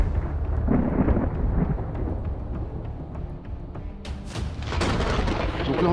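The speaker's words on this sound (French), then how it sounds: "il y a l'orage qui arrive fort là, on entend les bruits là, ça gronde sévère" Thunder from an approaching storm over a reservoir lake, deep rolling rumbles sustained for several seconds, loud and continuous with a surge of broadband noise in the second half.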